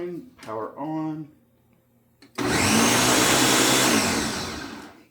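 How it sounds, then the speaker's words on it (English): Countertop blender whirring through a banana cream mixture, a loud steady roar that starts suddenly after a brief spoken line and runs for nearly three seconds before tapering. "I'm going to lock this on the blender"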